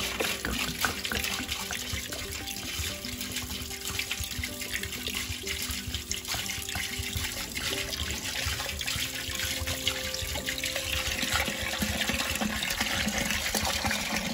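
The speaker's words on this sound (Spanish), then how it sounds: "Vamos a agregar agua la suficiente hasta que todas nuestras patitas se cubran bien por completo." Water runs steadily into a cooking pot to cover pork trotters for Guadalajara-style menudo, a continuous close pouring wash filling the whole clip with no talk.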